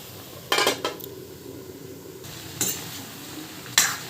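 A spoon stirs fish curry with vegetables and green chilies in a pan, giving a few sharp metal clinks and scrapes against the pot among quiet gaps, fairly faint and close.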